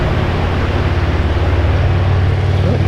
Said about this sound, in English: I hear some motorcycles.